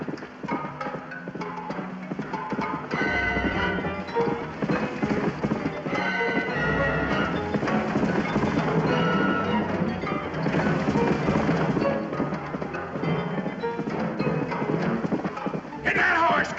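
Hooves clop steadily as a stallion gallops nearby, chased by cowboys, with a whinny rising above. People shout and talk excitedly over the rhythmic pounding.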